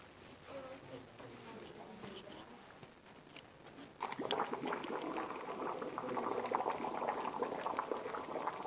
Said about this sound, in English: I take some of these pieces here and I put them into the hot water